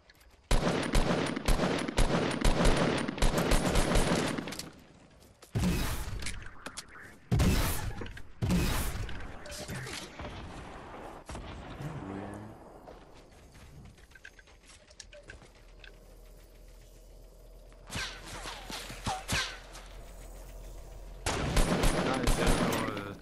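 Gunfire in Fortnite squads battle royale: rapid bursts of shots in dense clusters near the start, louder isolated cracks in the middle, then a quieter lull before another burst of firing at the end.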